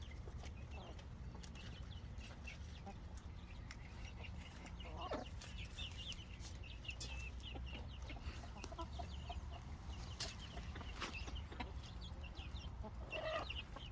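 Brahma chickens and chicks cluck softly and intermittently nearby as they feed on vegetables, over a steady low background hum, with occasional scratching and pecking noises.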